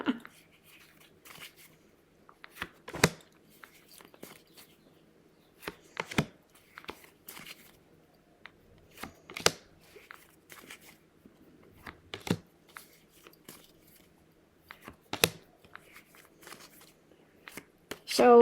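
An old Rider-Waite tarot deck is shuffled and cut by hand, giving sparse, crisp card snaps and riffles at irregular intervals over a quiet background.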